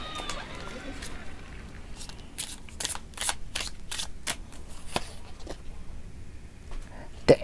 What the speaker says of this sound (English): Let's draw your first card.